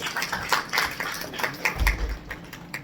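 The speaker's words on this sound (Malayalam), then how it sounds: "അപ്പോൾ അതിനുമാകാം ഒരു വലിയ കയ്യടി." An audience claps at a film audio launch event for a movie set in Kasaragod, a scattered, patchy applause with irregular hand claps of moderate loudness throughout.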